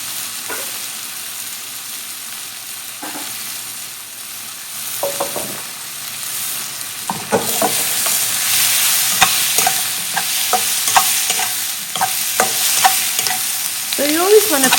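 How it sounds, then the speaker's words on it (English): Turmeric frying in a pot for a dairy-free coconut sweet potato curry, a steady close sizzle with repeated scraping stirs and light clinks of a utensil against the pot, growing busier toward the end. "So you always want to cook the turmeric a little bit."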